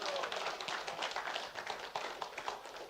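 Congregation clapping hands together in a church service, a dense, steady patter of many claps filling the room without pause.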